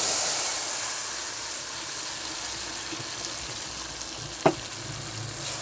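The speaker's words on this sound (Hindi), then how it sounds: "तो अभी ये सारा मटेरियल घी में ऐड कर देंगे।" Ingredients frying in hot ghee in a wok give a steady, loud sizzle and hiss that holds throughout, broken once by a single short clink.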